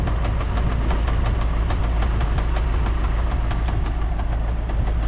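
A YuMZ-6 tractor engine runs steadily and loud, a dense continuous rumble with a fast knocking pulse throughout, close up and with no talk over it.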